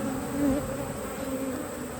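A soft, steady hum of honey bees buzzing nearby at a beehive, a continuous drone with a few louder passes, fairly quiet overall.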